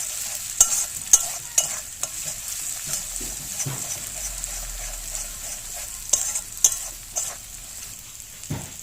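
Chili powder spice mix being stirred in a frying pan for a Bengali egg curry, with soft sizzling under repeated sharp scrapes and clacks of a spatula against the pan at an uneven rhythm.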